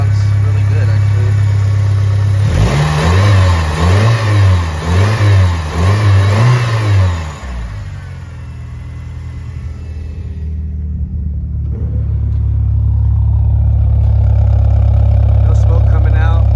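Honda K20Z1 Type S engine swapped into a Mitsubishi Eclipse with an automatic transmission, roughly 110,000 miles, revving up in repeated loud mid-pitched pulses, then settling into a steady rumbling idle, with a voice speaking briefly over it.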